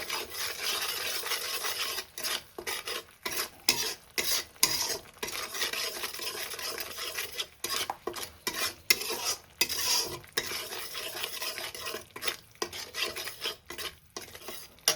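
A spoon stirs and scrapes spices with salt around a pan of okra masala in quick repeated strokes, close by, with brief pauses between bursts. No voices.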